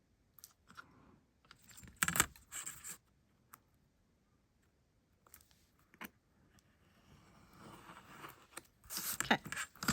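A blade slicing through a strip of metal tape, heard as a few sharp, crackly bursts spread apart with quiet gaps between them, the last stretch longer and rustling, close by and with no talk.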